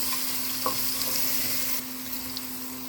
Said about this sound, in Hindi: इसको भी सही से 1 मिनट तक भून लेंगे